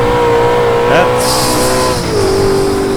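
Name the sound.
Ultima GTR tires squealing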